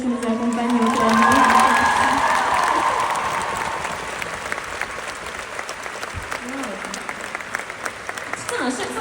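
An audience at a live concert in Lille breaks into loud applause with cheers and whoops, swelling then tapering into scattered clapping, with voices shouting over it.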